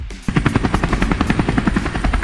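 A helicopter's rotor chops in a fast, steady rhythm close by and loud, beginning abruptly after a brief quiet moment, with no voices.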